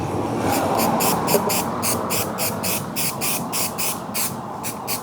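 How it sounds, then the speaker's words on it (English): A spray can of adhesive hisses in a run of short bursts of even length with brief gaps between them, close by, applied to a car headliner, with a steady background rumble underneath. "I'm gonna just spray this."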